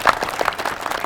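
Brief, close audience applause at a Jabardasth comedy stage performance, a quick patter of hand claps lasting about a second with faint crowd murmur.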